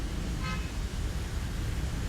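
A single short car horn toot sounds faintly in the distance over a low, steady traffic rumble, then the background continues without further honks.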